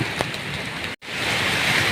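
Rain falls in a misty mountain forest in Kaset Sombun, Chaiyaphum, as a close, even wash of patter that cuts out for an instant halfway through and then resumes.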